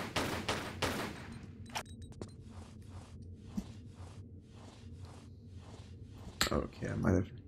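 Gunshots in Tomb Raider IV, a rapid burst of sharp shots at the start followed by a steady run of evenly spaced, quieter repeated shots, with a few louder cracks near the end.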